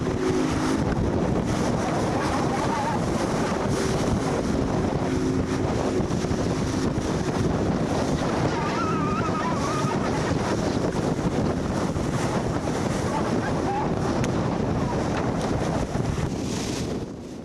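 A scallop trawler at sea out of Barfleur, driven by a 430-horsepower Baudouin V12 diesel, gives a steady, loud broadband engine roar with wind buffeting the microphone throughout, and no voices.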